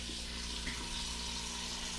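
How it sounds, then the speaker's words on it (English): Tap water runs steadily into a pot being filled for bone broth, a constant close rushing stream at moderate volume. "I'm just gonna fill this bad boy up with water."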